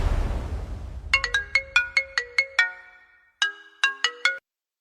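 An electronic phone ringtone plays a repeating chime melody, two bursts of bright plinking notes separated by a short pause, close and clear.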